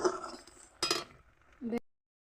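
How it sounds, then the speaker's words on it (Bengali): Fried shrimp stirred into a simmering okra curry in a pan, with a couple of short utensil scrapes and clinks against the pan, then a brief louder scrape before it goes quiet. "এখন আমি চিংড়ি মাছ ভাজাটা এর ভিতরে অ্যাড করে দিলাম, একটু নেড়ে চেড়ে দেবো।"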